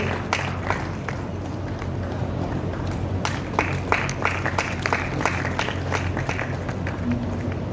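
An audience at an award ceremony in Ujjain applauds, steady dense clapping sustained throughout with sharper individual claps standing out, a broad wash of hands filling a hall with faint crowd murmur beneath.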